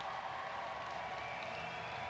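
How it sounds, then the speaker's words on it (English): Hockey arena crowd before an alumni Maple Leafs game, a steady, broad roar of cheering and clapping building from a distance and filling the whole moment. "Crowd's starting to roar a little bit."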